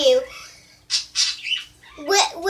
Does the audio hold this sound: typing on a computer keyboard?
no